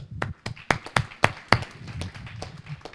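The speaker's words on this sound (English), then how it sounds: "we need to give applause to these tables for the good ideas" At a stakeholders meetup, a small group applauds the tables: a brief, sparse run of sharp individual claps, fairly close and quiet, fading out after a couple of seconds.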